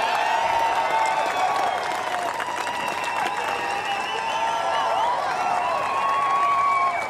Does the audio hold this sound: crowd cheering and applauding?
yes